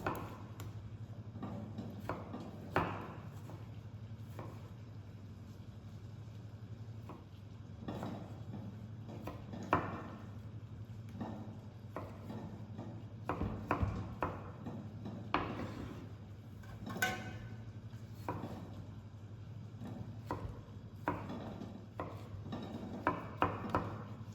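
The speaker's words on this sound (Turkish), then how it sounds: "küp şeklinde doğrayarak hazırlığa devam ediyorum" A knife dices tomatoes into cubes on a cutting board in irregular taps and clicks, quiet and close, with occasional louder knocks.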